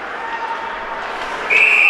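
A referee's whistle blows a sustained, shrill blast at a high school varsity ice hockey game, rising over the steady murmur of the crowd in the rink.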